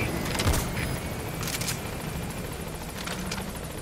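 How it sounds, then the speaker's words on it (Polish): Steady whirring drone of a helicopter in the video game Metal Gear Solid V: The Phantom Pain, with a rhythmic rotor chop and a few sharp bangs layered over it. "Dobra, wzywam helikopter"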